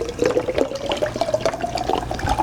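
Water pours steadily into a one-liter plastic drinking bottle, the gurgling splash climbing gently in pitch as the bottle fills, close and uninterrupted.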